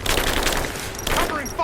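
Dense covering gunfire in the video game Rise of the Tomb Raider, a continuous loud fusillade of rapid shots filling the short stretch with a brief dip midway.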